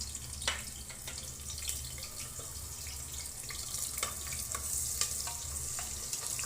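Sliced onions dropped into hot oil and frying on medium heat toward crisp brown, a faint continuous hissing sizzle with scattered small crackles and pops close by.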